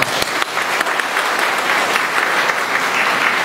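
An audience at an AIDS awareness meeting in Kailashahar breaks into sustained applause, a dense, steady roar of many hands clapping close by for several seconds.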